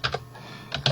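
Keystrokes on a computer keyboard during woodworking design software entry, two quick taps, a brief pause, then two more crisp clicks close up.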